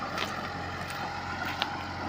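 A tractor engine runs in the distance across village farm fields, making a steady low drone with wind noise over it and no voices.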